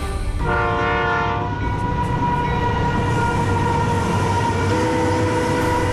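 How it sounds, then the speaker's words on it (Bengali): A train horn blares in long sustained tones, followed by a second extended blast over the rumbling of a train rolling in nearby. "এসে গেছে তোর ট্রেন।"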